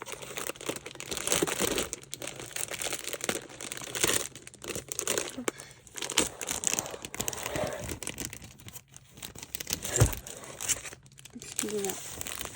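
Continuous crinkling and rustling of paper being handled and crumpled up close, with a few louder crunches and bits of quiet talk underneath.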